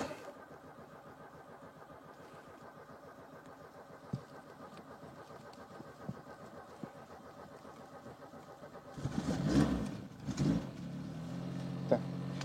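A Peugeot 405 GRX4 engine, unstarted for two months, cranks and catches with a sudden roar, then settles into a steady idle after a long stretch of quiet background rumble.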